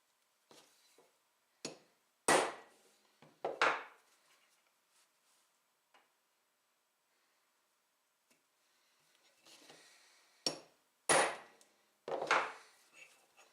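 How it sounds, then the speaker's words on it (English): A hammer strikes a prick punch to mark hole positions on a metal plate fixture in a home machine shop, giving sharp, isolated metallic taps in two clusters separated by a quiet pause. "So now we can prick punch those 4 positions."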